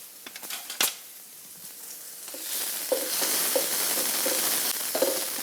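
Garlic, ginger and red curry paste hitting hot oil: a few sharp clatters first, then a building, steady sizzle with rhythmic stirring scrapes, close and moderately loud.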